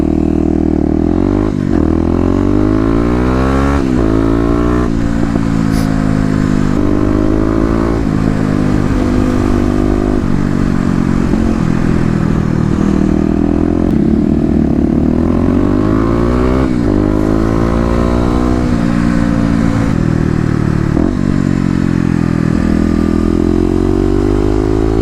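A Kawasaki KLX250 dirt bike fitted with an EJK fuel controller pulls hard on a test run, its engine note rising repeatedly through the gears in loud, close revving sweeps with brief dips between shifts.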